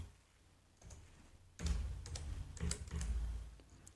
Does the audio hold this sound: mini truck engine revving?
no